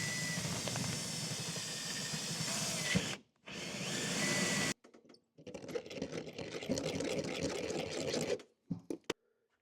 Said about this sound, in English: All right, I'm going to set you guys up and start drilling.